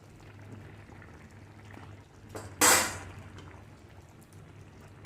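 Hot oil tempering with mustard seeds and dried red chillies is poured into pumpkin olan, a sudden loud sizzling burst lasting about half a second over quiet kitchen background, then fading.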